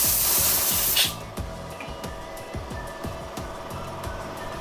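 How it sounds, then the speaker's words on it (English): A workshop air compressor starts after a short burst of hissing air, its motor then chugging in a steady repeating pulse at moderate volume during wood fluting work on a router jig, with no voices. "Just the compressor kicking in."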